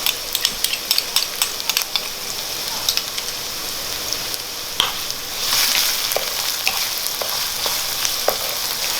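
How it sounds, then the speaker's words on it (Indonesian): Onion and garlic sautéing in a pan, a steady crackling sizzle with scattered sharp pops and stirring clicks that thicken into a denser hiss partway through. "Kita tumis bawang bombay. Kemudian juga bawang putih."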